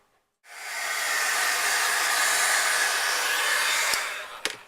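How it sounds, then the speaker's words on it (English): A heat gun blows steadily over a handmade greeting card, a loud continuous broadband hiss from start to near the end, with a couple of faint clicks as it cuts off. "now I need my heating gun"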